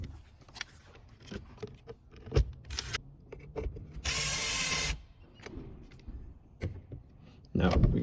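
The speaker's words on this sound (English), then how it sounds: "Now, let's screw everything back in." A power tool drives screws back in while a machine is reassembled after a carbon brush replacement. A sustained whirring burst stands out among scattered clicks and handling knocks, followed by another burst at the end.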